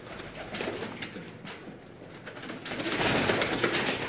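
Pigeons belonging to Hassan Jutt coo in soft, low, continuous murmurs that swell louder toward the end, with no voices present.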